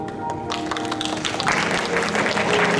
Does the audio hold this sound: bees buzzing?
no